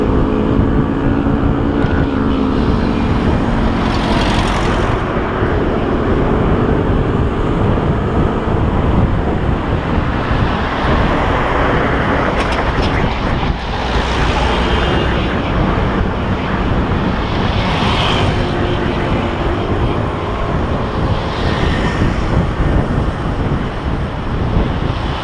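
A vehicle on a downhill ride, heard as a loud, continuous roar of engine rumble and heavy wind buffeting against the microphone, steady throughout with a few brief rushing swells and no voices.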